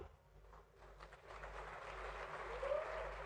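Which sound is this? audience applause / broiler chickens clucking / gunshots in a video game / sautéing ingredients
audience applause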